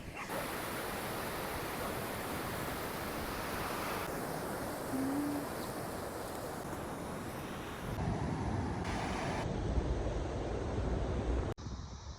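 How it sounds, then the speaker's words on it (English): Surf rolls onto the beach at Byron Bay as a steady, broad wash of waves, loud and close throughout, with some wind buffeting and no talking. "Here we are, the beautiful beach."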